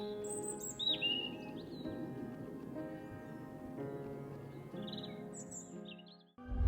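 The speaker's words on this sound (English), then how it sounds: "birds chirping," A chirping birds sound effect, with several sharp high tweets and calls scattered over a quiet, low ambient background and no voices.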